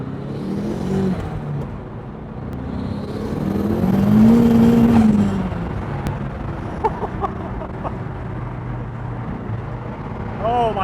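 A turbocharged Mazda Miata NB making roughly 400 horsepower on about 20 psi of boost pulls hard, its engine note climbing and swelling before easing off, with voices faintly mixed in.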